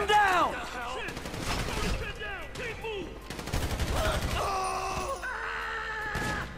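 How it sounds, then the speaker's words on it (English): Gunfire in the video game GTA V comes as sharp, fast repeated shots and automatic bursts, mixed with shouting and groaning voices during a shootout. "So I guess we're shooting our way out of here."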